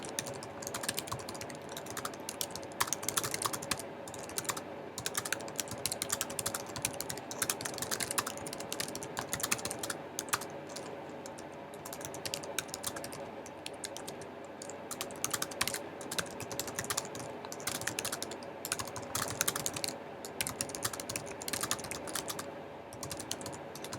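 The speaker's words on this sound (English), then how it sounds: "sorry, I can't type and talk at the same time." Rapid typing on a computer keyboard, dense continuous key clicks with brief pauses, close and moderately quiet, no voices.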